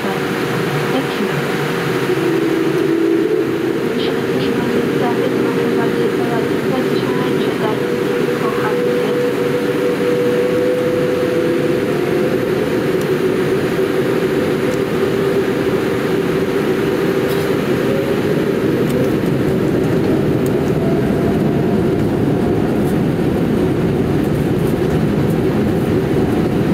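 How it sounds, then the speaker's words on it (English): Airliner taking off from Narita airport, heard from inside the cabin as a loud, steady engine roar that continues throughout, with a cabin announcement spoken over it. "We are now ready for takeoff."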